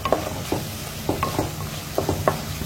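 Pandugappa fish curry frying in a clay pan, a low steady sizzle broken by several soft scraping clicks of a spoon or spatula stirring at an uneven rhythm, close by and without talk.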